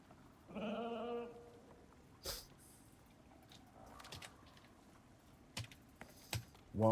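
A male sheep in the survival game Icarus gives one clear, wavering bleat up close, followed by scattered soft clicks and brief thumps.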